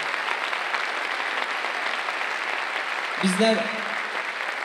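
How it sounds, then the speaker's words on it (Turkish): A university music club's audience applauds at a concert, with steady clapping throughout under a voice, then a brief chord of music near the end. "Ben arkadaşlarımı ayağa kaldırıp orada bir alkışlatmak istiyorum."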